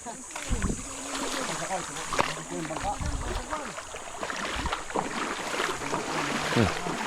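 A small boat moving on water, with a constant engine drone and water wash, while people talk nearby throughout.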